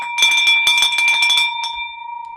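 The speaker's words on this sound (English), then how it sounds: "I think, Matt, I'm going to break this bell a lot faster" A hand bell rung to celebrate a cash deal clangs in a rapid string of bright, loud strokes, then a single late strike, leaving a sustained ring that slowly fades.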